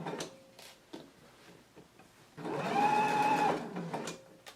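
A sewing machine stitches a shirt seam from the fold to the stitching line, running in one loud, steady burst in the middle after a few quieter clicks and handling taps.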